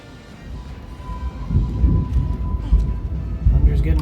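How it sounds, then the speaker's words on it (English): Rolling thunder in the video game The Outer Worlds, a deep rumble that swells and pulses over several seconds with a faint steady tone beneath, fairly close and loud. "Thunder's getting real loud."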